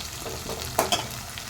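Masala for an Andhra-style chicken curry sizzles in a pan while it is stirred, a steady frying hiss broken by a couple of sharp utensil scrapes.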